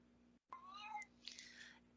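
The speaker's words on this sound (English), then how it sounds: "I apologize for the cat yodeling" A cat lets out a drawn-out, wavering yowl close by and faint, rising and falling over about a second before a second, higher cry follows.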